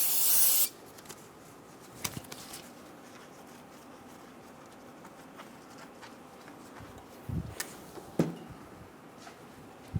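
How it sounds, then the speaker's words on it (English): A short, loud hiss of brake parts cleaner sprayed while servicing the front brake caliper of a 2010-2014 Subaru Outback, followed by quiet with a few light clunks and handling noises. "You can also use some brake parts cleaner."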